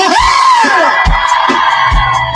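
A concert crowd at a band show in Dubai cheers and screams loudly, a dense wall of yelling and whooping voices that swells throughout, with an amplified voice rising over it.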